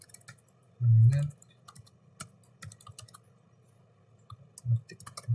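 Typing on a computer keyboard during database work, with quiet, irregular key clicks and one longer, louder burst of rapid keystrokes near the start, then scattered taps.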